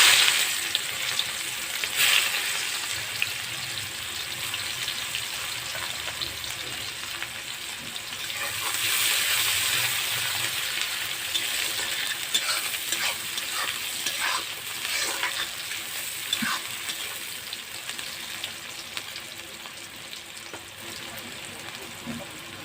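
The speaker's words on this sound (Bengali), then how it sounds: "এখন এ তেলের মধ্যে মাছটা ফোড়ন করে নেব। দেবো একটু পেঁয়াজ," Steady sizzling and frying of onion in hot oil, left over from frying puti fish, with stirring scrapes, close and continuous for the whole stretch.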